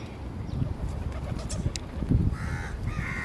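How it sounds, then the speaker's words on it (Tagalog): Pigeons coo softly amid a busy outdoor background, with a few faint bird calls over a steady hum. "Ang gaganda ng kalapati"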